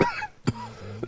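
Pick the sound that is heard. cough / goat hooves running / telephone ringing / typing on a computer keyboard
cough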